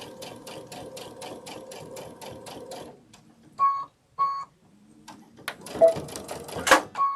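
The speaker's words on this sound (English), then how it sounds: "I'm going to sew down the leaves first." A home sewing machine stitches down fabric leaves on a sunflower wall hanging, first in a fast, steady rhythmic run, then in a few short separate bursts, close and clear with no talking.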